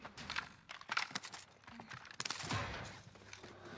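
Gunfire in the Warzone video game: a rapid, ragged burst of close shots in the opening seconds, then another loud cluster of cracks midway, trailing into a steady background din.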